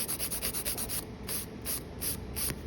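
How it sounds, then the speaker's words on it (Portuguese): A nail file rasps back and forth across the tip of a gel nail extension in quick, close, quiet strokes, first in a rapid run and then in slower, spaced passes. "E aqui vou começar lixando a minha ponta. Então, lixa retinha."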